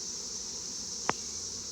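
Honey bees hum around hives being combined, a steady even buzz that holds throughout, broken once by a single sharp knock.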